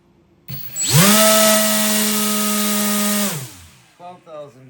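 An RC motor spins up an 8.5 inch, 3-bladed folding 3D printed propeller on a thrust test stand, a loud rising whine that holds steady for about two seconds then winds down, followed by brief talk.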